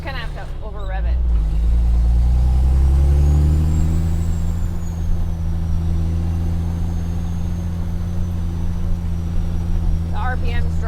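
A Kenworth T800 dump truck engine is held at high revs while climbing a steep hill. It makes a loud, continuous drone with a brief surge near the start, and a voice can be heard over it.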